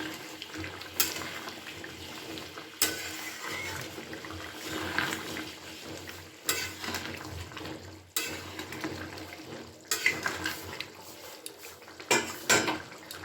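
Ghee and garam masala powder stirred through cauliflower and potato curry in a pan, with steady scraping and clinks of a spatula against the metal and a broad sizzling wash underneath, in several louder bursts.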